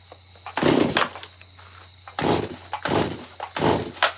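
A Stihl MS170 chainsaw carves a pumpkin in four short, loud revving bursts up close, with brief idling lulls between the cuts.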